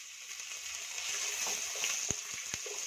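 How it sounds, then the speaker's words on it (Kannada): Chopped onion and curry leaves fry in a pan for ridge gourd rice, giving a soft, steady sizzle with a couple of sharp spoon taps near the end and no voices. "ಈರುಳ್ಳಿನ ಚಿಕ್ಕದಾಗಿ ಕಟ್ ಮಾಡಿ ಇಟ್ಕೊಂಡಿದ್ದೀನಿ ಅದನ್ನು ಕೂಡ ಸೇರಿಸ್ತಾ ಇದ್ದೀನಿ ಹಾಗೆ ಕರಿಬೇವು ಕೂಡ ಸೇರಿಸ್ಕೊಂಡು ಚೆನ್ನಾಗಿ ಫ್ರೈ ಮಾಡ್ಕೊತೀನಿ"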